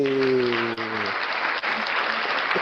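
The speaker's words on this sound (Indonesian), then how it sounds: "aplaus buat Mbak Ekawati ya" Applause for Mbak Ekawati during an online class session on Google measurement, metrics and data analytics: steady, dense clapping throughout, opening with a brief tonal voice or chime over it.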